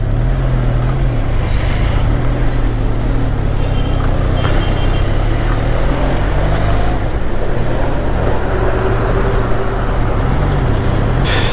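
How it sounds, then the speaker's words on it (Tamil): Heavy road traffic near Lonavala on the Mumbai route, a loud continuous rumble of cars, trucks and buses with engine drone, passing whooshes and an occasional hiss of air brakes. "லோனாவாலாவை அப்படியே என்ஜாய் பண்ணி ஒரு இடம் ஓட்டலான்னா ஃபுல் டிராஃபிக்."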